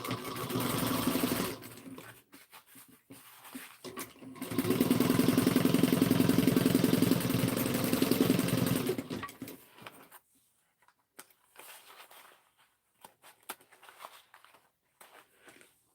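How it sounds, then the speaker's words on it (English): A sewing machine runs down the sides of a bag at a 3/8-inch seam, humming in a short burst and then a steady run of about four seconds, with quiet handling clicks and pauses around it. "And we're going to sew down the sides at 3/8 of an inch."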